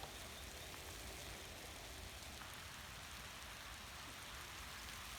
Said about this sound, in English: Millions and billions of little raindrops.